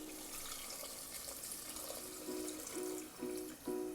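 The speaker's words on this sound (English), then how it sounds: "Now let's add water" Water runs from a tap into a pressure cooker, a faint steady pour with a few rising gurgling fill tones near the end.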